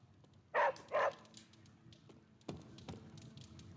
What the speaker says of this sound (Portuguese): Aqui tá o nosso cachorrinho, vamos elogiar ele.